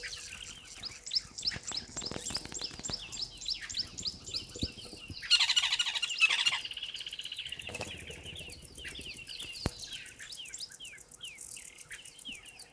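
Many birds chirp and call in quick repeated bursts at a waterhole in Namibia, with a louder flurry of squawking and wingbeats midway, all fairly distant and unaccompanied by voices.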